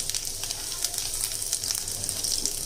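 Urad dal frying in hot oil for a tempering, with a steady close-up sizzle that holds even and unbroken throughout, no voices present.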